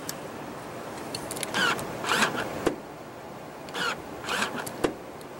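Power-folding rear seats in a 2015 Mercedes-Benz GL350 diesel SUV, electric motor whirring in two short rising bursts with soft thumps and clicks as the seatbacks fold, heard close in a quiet cargo area.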